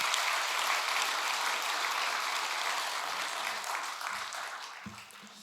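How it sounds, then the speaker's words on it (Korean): A church congregation at an evening revival service breaks into sustained applause, steady and full, that slowly fades while low murmurs and a few voices come up near the end. "이런 하나님께 우리 영광의 박수를 한번 올려드리지 않겠습니다"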